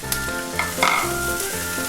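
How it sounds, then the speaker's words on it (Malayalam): Chilli powder and coriander powder heating in hot oil in a pan, a steady crackling sizzle with brief stirring scrapes, close and alone. "അത് അതിലേക്ക് ഇട്ടൊന്ന് ചൂടാക്കി എടുക്കുക."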